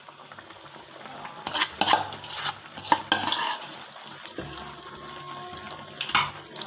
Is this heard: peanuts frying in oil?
yes